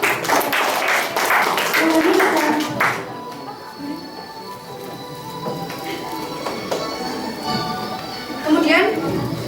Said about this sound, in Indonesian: Ayo tepuk tangannya dong